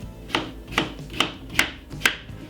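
A kitchen knife dices fresh cucumber on a cutting board for a weight-loss salad, five crisp chopping strokes landing at a steady, unhurried rhythm, close and clear with no talk.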